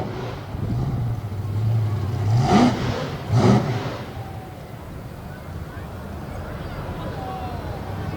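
Bigfoot 15, a monster truck at an indoor show in Indianapolis, roars through two loud, surging revs close by over a dusty arena floor, then drops to a lower rumble as an announcer talks over it.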